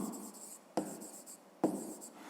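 A pen writes on paper in a quiet room, giving soft scratching strokes with two sharper taps spaced under a second apart.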